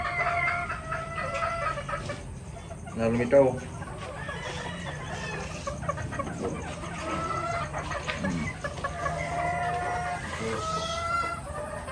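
Chickens cluck repeatedly amid a busy Philippine farmyard, with a person speaking briefly in Filipino and other fowl sounds scattered throughout.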